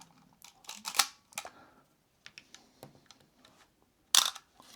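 A camera shutter fires at a fast shutter speed, giving a few sharp mechanical clicks with quiet gaps between them, one especially crisp snap near the end, and no talking.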